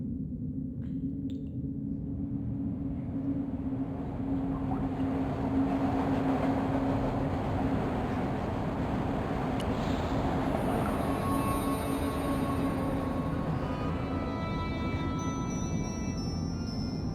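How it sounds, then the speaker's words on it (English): London Underground train in the game Broken Sword 2: a steady, droning rail rumble with a sustained hum and faint high squeals, continuous and fairly quiet throughout, no voices. "The train was my ride out of there."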